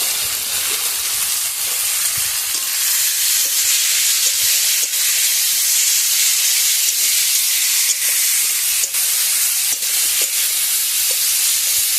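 Rohu fish with tender drumsticks, salt and turmeric fries in a pan, giving a steady, dense sizzle and hiss that carries on without a break, close and fairly loud, with no one talking.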